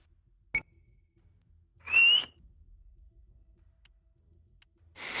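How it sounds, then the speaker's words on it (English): A person gives one short, high whistled note that rises slightly, standing alone in a quiet room between a sharp click and faint taps. "There's a whistle sound."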